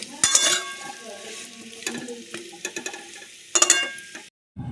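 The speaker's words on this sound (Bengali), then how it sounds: "আলুটাও লাল লাল করে ভেজে নিলাম।" Potatoes frying in a pan until browned, with intermittent stirring scrapes and clinks of a utensil against the pan over a soft sizzle, in short bursts separated by quieter gaps.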